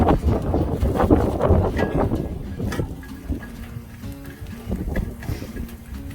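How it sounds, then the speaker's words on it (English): Strong outdoor wind buffets the camera microphone in heavy, low rumbling gusts, with faint griddle sounds underneath. "this wind is blowing hard. Shaking my camera around."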